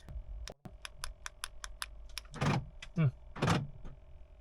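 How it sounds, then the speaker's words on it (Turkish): A rapid series of sharp mechanical clicks, then several louder whirring thunks as a BMW E46 or E39's central door locks actuate during key coding, fairly close in a quiet space. "Zaten o sırada da kapılar kilitlenip açılacak kendi kendine."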